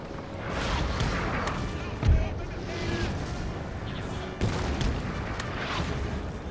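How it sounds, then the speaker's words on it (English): Artillery fire in the Napoleonic battle game Napoleon Total War, with cannon booms and gunfire rumbling over constant battle noise, one sharper boom standing out, while someone talks over it. "Jeez, look at all that artillery they have."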